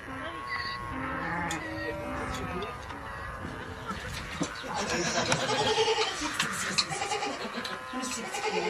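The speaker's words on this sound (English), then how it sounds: "Goats and sheep feed from the manger at one end." Goats and sheep bleat in a rocky valley of a small, isolated Palestinian community, the calls repeating in short bursts close by over steady ambience, with a voice talking across much of it.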